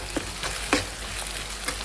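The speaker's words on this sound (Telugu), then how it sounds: "ఇది కూడా చక్కగా ఉల్లిపాయలు పచ్చిమిరపకాయలు చక్కగా వేగినాయి కదండి" Onions and green chillies fry in a pan for a fish curry, a steady broadband sizzle with a few soft stirring knocks, close and fairly quiet with no voices.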